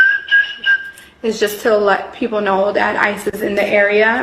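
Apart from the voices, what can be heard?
short whistle warning that ICE agents are nearby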